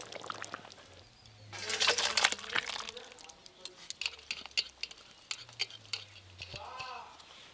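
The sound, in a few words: pouring cooked dish out of the pan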